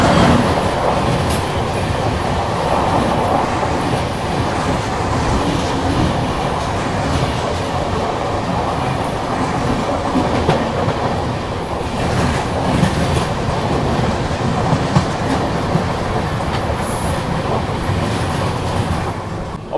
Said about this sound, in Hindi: देखो अभी सामने से कोई ट्रेन आ रही है क्रॉसिंग के लिए